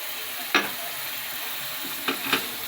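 Jeera aloo of raw potatoes, cumin, coriander powder, turmeric and chili flakes frying in a pan, a steady close sizzle broken by a few quick scraping stirs.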